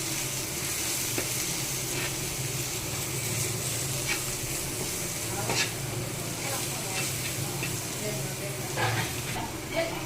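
Steady sizzling of spices frying in a pan for masala dosa filling, with scraping stirring sounds and occasional clinks throughout, continuous and moderately loud.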